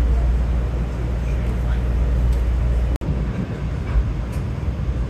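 A New Haven Line commuter train runs with a steady low rumble from inside the car, holding constant apart from a brief dropout.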